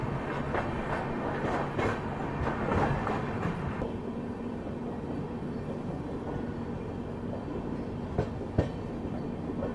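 The Kolkata Pune Duronto Express running on rails near Ahilyanagar Junction, heard from on board as a steady rumbling roll with clattering wheel noise and occasional sharp clicks over rail joints.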